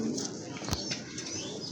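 Pigeons, a mix of local and foreign breeds kept for sale, give soft, brief cooing with a sharper flutter or call partway through, close by and heard alone.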